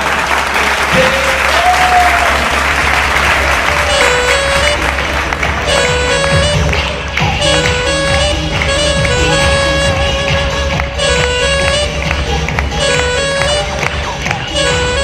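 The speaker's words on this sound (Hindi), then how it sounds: "मैं आपकी जोरदार तालियों के साथ" A hall crowd at a celebration event gives loud, continuous applause for a young leader, with amplified stage music and tonal melodies entering over the clapping after a few seconds.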